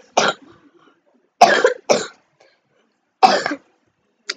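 Coughing during a ski jumping tournament broadcast at Bischofshofen: four separate harsh cough bursts, close and fairly loud, spaced irregularly with silence between, the last one clipped at the end.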